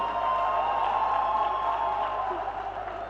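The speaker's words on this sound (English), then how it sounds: "Let's give a big round of applause for all the youths here." Applause and cheering from a large audience at a youth-focused plenary in Accra, a dense continuous wash of clapping and voices heard from within the hall.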